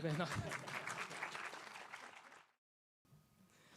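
Audience applause at a business pitch event, with voices mixed in, loud at first and then tapering off. A short silence follows, then quieter room sound returns.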